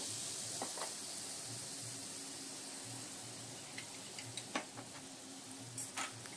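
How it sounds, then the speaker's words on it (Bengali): Eggs scramble in a spoonful of butter in a frying pan, giving a steady, soft sizzle throughout with occasional light scraping and ticks from stirring. "এবার আমি ডিমটা ভালো করে ফেটিয়ে নিয়ে এর মধ্যে দিয়ে দেবো। এগ স্ক্র্যাম্বল করে নেব।"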